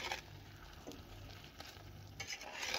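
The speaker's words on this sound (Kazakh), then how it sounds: "Сарымсағымызды қосқаннан кейін жақсылап араластырамыз." Chopped garlic sizzles faintly in an oiled pan as a spoon stirs it, soft scraping and patter close by with no voices.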